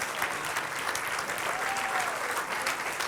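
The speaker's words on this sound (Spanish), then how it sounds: "Póngase en pie y den un aplauso al Señor." A church congregation applauds, a dense, steady wash of clapping from many hands filling the room for the whole stretch, with no break.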